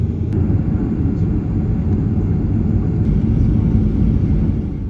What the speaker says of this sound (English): It's now time for takeoff on runway 27.